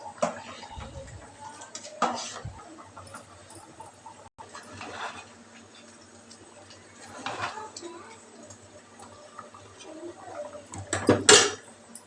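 A ladle stirs veg biryani in a pot, giving scattered metallic scrapes and clanks at intervals, loudest near the end, with kitchen background noise.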